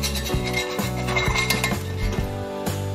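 Egg omelette being flipped in a cast iron pan, with a run of close metallic scrapes and clinks from a spatula against the pan in quick succession over a light sizzle.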